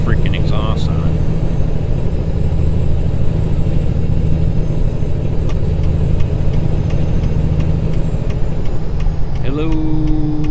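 A deep, steady video-game truck engine rumble, from a Peterbilt 389-style truck in American Truck Simulator, drones throughout with a beefy low exhaust note, loud and constant, with faint speech-like sounds mixed in.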